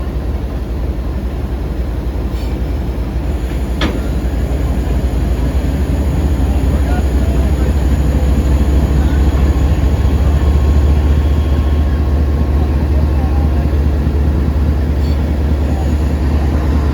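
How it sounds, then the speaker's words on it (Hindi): A locomotive being coupled to the Shalimar Express at a Lahore station, with a heavy low diesel rumble droning steadily throughout and a faint metallic knock early on. "लोकोमोटिव अटैच हो चुका है।"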